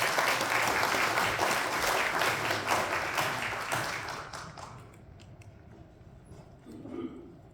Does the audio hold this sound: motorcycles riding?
no